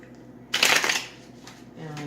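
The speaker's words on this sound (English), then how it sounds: "I'm just going to do a couple more shuffles and one more cut." A deck of tarot cards being shuffled, a single short burst of riffling that stands out clearly over a quiet background.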